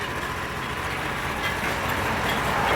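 A Mitsubishi walk-behind rotary tiller engine runs steadily up close, a loud, even mechanical drone with broadband rattle that holds constant throughout without pauses.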